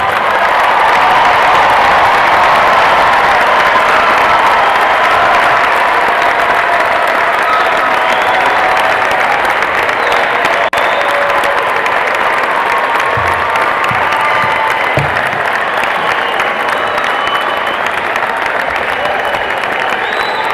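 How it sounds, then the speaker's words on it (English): Sustained applause from a commencement crowd at Hofstra University's 2019 undergraduate ceremony, honouring family and friends: a thick, even wash of many hands clapping, loud and continuous throughout with faint cheering mixed in. "we will join you in a round of applause for them"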